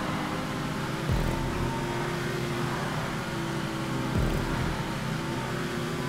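A Toyota Prius drives in GTA 5, its engine giving a steady, moderately loud whirring drone throughout, with two brief low thumps around the first and fourth seconds and no talk.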